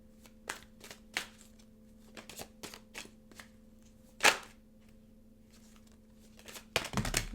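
Tarot cards being shuffled and handled, a sparse series of soft flicks and taps with one sharper snap midway and a quick riffle at the end, close and quiet with no talk.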